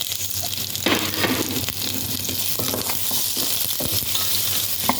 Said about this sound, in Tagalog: At ilagay na natin ang ating sibuyas.